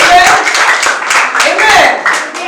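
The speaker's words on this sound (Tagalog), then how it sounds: "Palakpakan natin ang Panginoon." A church congregation at a gospel service claps their hands in quick irregular bursts, mixed with voices speaking over the applause.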